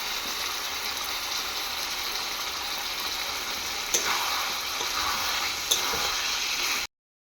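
Potatoes dropped into spicy chicken curry frying in a pan: a steady, dense sizzle held throughout at close range, with two brief soft thumps as pieces go in, and no talk.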